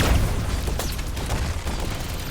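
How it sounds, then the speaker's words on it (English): Muffled explosions from lasers striking the outside of a floating passenger railroad car, heard as a dense, continuous low rumble with repeated dull booms and bursts in an audio drama scene. "I can hear the muffled explosions."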